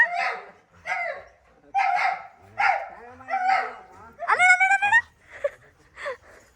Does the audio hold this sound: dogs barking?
yes